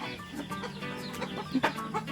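Chickens cluck and murmur close by in a busy flock, with a few sharper squawks standing out near the end.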